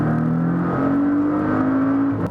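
Turbocharged engine of a 2017 Porsche 718 Cayman S droning steadily at close range, a smooth sustained hum that rises slightly in pitch as the car pulls, heard alone without talk.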